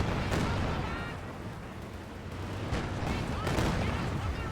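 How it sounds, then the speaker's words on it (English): Katyusha rocket barrage in Company of Heroes 2 battle, a dense rumbling roar of scattered blasts and crackling impacts that swells, dips, then builds again, loud and continuous throughout. "Katusha barrage, eyeing for a barrage somewhere"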